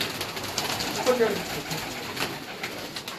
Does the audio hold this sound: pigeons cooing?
yes